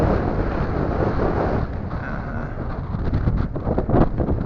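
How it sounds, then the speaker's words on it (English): Strong wind at a lakeside fishing camp buffets the microphone in a steady, loud broadband roar, with gusts swelling toward the end and no voices. "it's so windy around this camp, and the wind is blowing back this direction"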